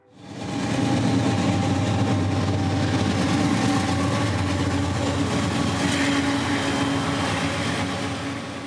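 A Norfolk Southern autorack freight train rolls along CSX tracks, a loud continuous rumble of wheels and rail cars with steady low engine drone, fading in at the start and holding near throughout.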